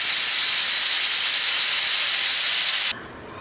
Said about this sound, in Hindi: अभी कुकर में डाल दिए हैं, हजार एक सीटी लगा देते हैं